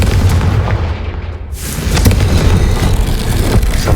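A Confringo fire spell bursts in Hogwarts Legacy, a loud booming blast followed by crackling, rumbling debris and low roaring noise that lingers for several seconds.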